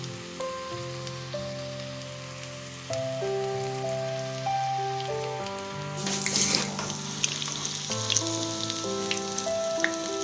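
Cabbage cutlets sizzle and spit steadily in oil in a small frying pan, a close, continuous crackle under a faint musical tone, growing a little busier toward the end.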